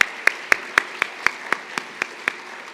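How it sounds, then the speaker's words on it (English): Steady, evenly spaced claps ring out for Linda at a live benefit event, about four per second, fairly faint, like a few people clapping in unison over a quiet room. "Let's give her another round of applause."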